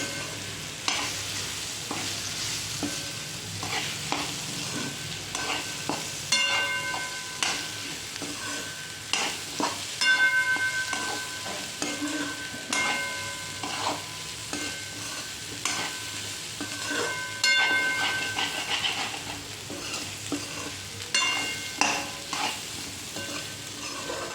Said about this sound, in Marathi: छोले टाकल्यावर परत एक वेळा चांगलं परतून घ्यायचं